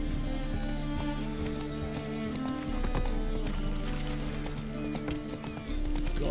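Roach the horse galloping in The Witcher 3, with rhythmic clip-clop hoofbeats over a layered game ambience and music, carrying on steadily throughout.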